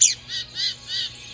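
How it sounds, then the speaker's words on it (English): Lincoln's sparrow calling in desert canyon scrub near Tucson: four short, bright, buzzy notes in an even rhythm, fairly close and clear over faint background hum. "Lincoln sparrow."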